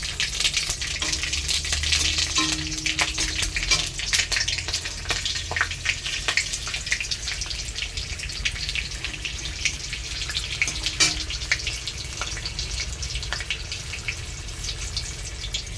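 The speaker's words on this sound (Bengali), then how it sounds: "তো কড়াইতে তেল দিয়েছি, তো গরম হয়ে গেছে। তো এখন সর্ষে ফোড়ন দিলাম" Mustard seeds and chili crackle and sizzle in hot oil in a wok, a dense continuous hiss with scattered sharp pops throughout, fairly loud and without speech.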